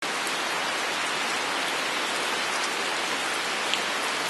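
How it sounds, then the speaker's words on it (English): Steady morning rain pours down in the Peruvian Amazon rainforest, a dense, even hiss of drops on surfaces that continues without pause, close and fairly loud. "Rained all night, and now it's the morning, and it's still raining."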